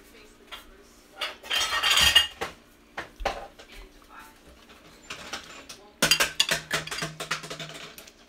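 Lamb stew is ladled into a bowl with clattering dishes and cutlery, in two loud bursts of scraping and clinking separated by quieter handling. A dog whimpers faintly in the background.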